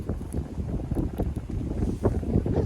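Wind gusting on a mountainside during a climb to gather wood ear mushrooms, a loud, continuous rushing roar buffeting the microphone with surging pulses throughout.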